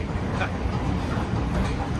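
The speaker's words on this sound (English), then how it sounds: "Turkish underground station. Marmaray." Low, steady rumble of the Marmaray underground train station in Istanbul, Turkey, a dense broadband roar of rail and station noise filling the space without a break for two seconds.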